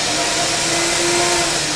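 Vacuum pump of a screen printing exposure unit runs as a steady, loud broadband whoosh with a constant low hum, unbroken and alone throughout.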